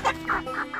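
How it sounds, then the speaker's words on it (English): Pure Kienyeji chickens at feeding time on fish, a quick run of soft excited clucks, close and steady, with no voices. "these are pure Kienyeji chicken"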